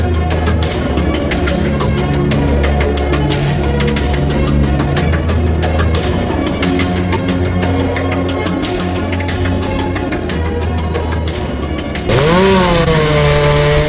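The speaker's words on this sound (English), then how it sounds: "The sounds of chainsaws alerted everyone in the neighborhood." Chainsaws cut through wood after storm damage in a neighborhood, a loud, continuous buzzing engine drone that holds steady throughout before a sharp rev swoops upward near the end.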